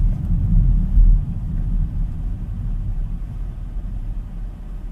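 A 2025 BMW X5 xDrive50e M Sport plug-in hybrid SUV accelerates briskly in electric mode, giving a steady low cabin rumble of road and tyre noise that swells slightly early on and then holds even, with no voices.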